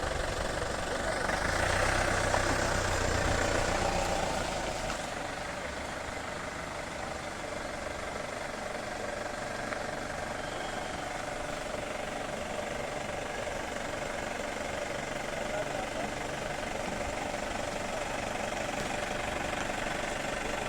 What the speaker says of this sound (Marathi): वरून गाडी आल्यामुळं थांबली